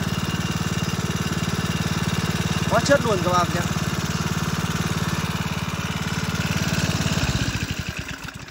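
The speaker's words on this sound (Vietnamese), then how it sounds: "Đây, test thử tiếng máy cho các bác này." A Tanaka 68cc four-stroke leaf blower engine idles steadily close by with a throbbing hum, then slows and sputters near the end, while someone talks briefly over it.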